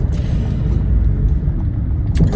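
A car drives along a road during an evening drive, giving a steady low engine and road rumble close inside the cabin throughout, with a brief brighter rustle near the end and no talking.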